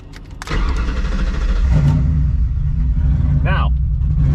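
A car's modular engine with a Holley Terminator X fuel injection system, running essentially untuned, catches and settles into a loud, steady idle with a brief higher rev partway through, with a person talking over it.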